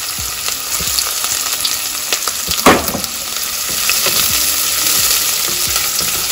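Small onions fry loudly in hot sesame oil inside a pressure cooker, a dense crackling sizzle with clatters and scrapes from stirring, one sharper knock midway, close and with no speech.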